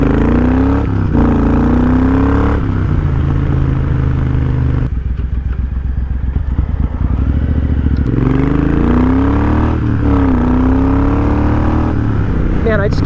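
A Triumph Thunderbird 1700 muscle cruiser rides past loud and close, its big engine rising and falling through revs with a brief throttle-off clatter mid-run, and wind rush underneath.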